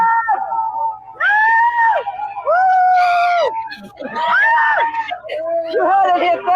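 Several people at a Free Assange vigil scream and shriek with joy in loud, high-pitched bursts, close by and overlapping, with short breaks between the cries.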